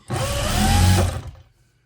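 A sewing machine stitching the seams of a wool cloche hat, a single close burst of rapid whirring stitching about a second long that stops abruptly, with no talking.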